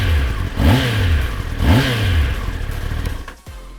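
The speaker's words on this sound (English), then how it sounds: "The engine's gone more silent now thanks to the new emissions." A 2021 Kawasaki ZX-10R supersport motorcycle engine revs loudly and close, two sharp rising throttle blips followed by a falling drone before it fades off.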